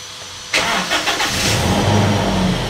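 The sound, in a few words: Toyota Innova petrol car engine started and warming up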